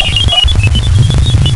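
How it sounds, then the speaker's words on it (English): Strange computer-like beeping from a spacecraft recording of space, a run of short high electronic tones over a dense low rumble, loud and close with no talk. "Then comes some stranger computer beeping-like sounds."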